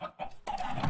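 Short clucks from chickens in the Minecraft video game, a couple of quick bursts within a second, fairly close and without speech.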